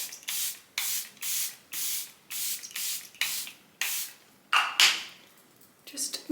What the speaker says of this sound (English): just make my face absolutely drenched in setting spray.